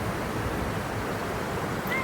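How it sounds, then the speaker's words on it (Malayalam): A calm river flowing at Panamkuzhi makes a soft, steady wash of water, even and unbroken, with no voices over it. "വളരെ ശാന്തമായിട്ട് ഒഴുകുന്ന പുഴയാണ്"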